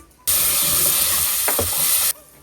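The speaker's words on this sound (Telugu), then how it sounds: "ఒక రెండు రెబ్బలు కరివేపాకు వేసుకుందాం" Curry leaves dropped into hot oil with onions burst into a loud, bright sizzle that starts abruptly, holds for about two seconds with a couple of crackles, then cuts off.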